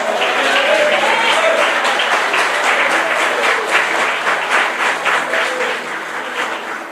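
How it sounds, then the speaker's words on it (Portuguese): A church congregation applauds the Lord, loud sustained clapping filling the room, strong at first and easing slightly toward the end. "Você pode aplaudir o Senhor?"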